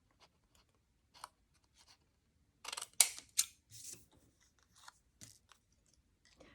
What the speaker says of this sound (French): Je vais commencer par venir découper la partie que je vais coller ici à l'arrière.